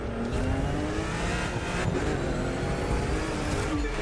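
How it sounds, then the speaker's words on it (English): Car engine revving in the racing video game The Crew 2, a loud, continuous roar with steady harmonic drone and swelling pitch throughout, no talking. "Just listen to the really nice engine noises."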